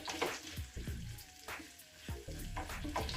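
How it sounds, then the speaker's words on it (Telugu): Cauliflower florets frying in hot oil over a medium flame, a soft crackling sizzle with scattered pops and bubbling, fairly quiet and close. "ఆయిల్ వేడైన తర్వాత ఇప్పుడు మనము ఈ గోబీని ఇందులో వేసుకొని ఒక 2-3 నిమిషాలు మీడియం ఫ్లేమ్ మీద పెట్టుకొని ఫ్రై చేసుకోవాలి"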